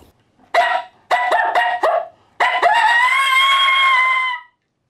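Coyote challenge vocalization imitated on a Mr. Mouthy mouth call: several sharp barks in quick succession, then a long rising and falling howl, loud and close with no other sound.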